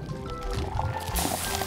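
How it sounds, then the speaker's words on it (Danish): Vinegar poured onto white powder with food colouring in a toy baking-soda volcano gives a wet, fizzing slosh of liquid and bubbling, steady and close, growing brighter toward the end. "Og så noget eddike for at få det til at boble."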